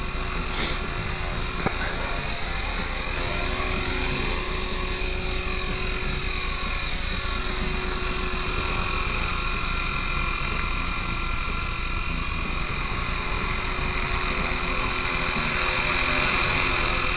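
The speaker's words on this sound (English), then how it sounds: "I brought the pitch up so she hovers at a low head speed, just for playing around." An EXI 250 clone RC helicopter hovers at a low head speed, giving a constant high-pitched whine from its motor and rotor that holds steady and close for the whole stretch.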